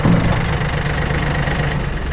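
A Yanmar FX255 tractor's diesel engine idles steadily with a low, throbbing rumble and a faint knocking rhythm, loud and close throughout, with no other sounds.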